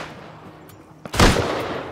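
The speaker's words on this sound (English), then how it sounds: "Oh, I'm getting shot in the back." A single sharp, loud gunshot crack in the Rust survival game rings out after a quiet stretch, then lingers briefly as a fading echo.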